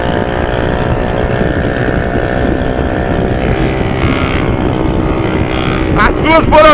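Modified Honda CB300R motorcycle with a diffuser-type exhaust runs steadily at idle, its harmonic drone loud and close, then a burst of revving and popping builds near the end.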